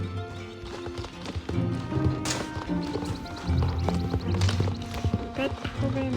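Horse hooves clip-clop in Star Stable Online, a horse-riding video game, the steady trotting beat running through the scene beneath a voice talking and game music.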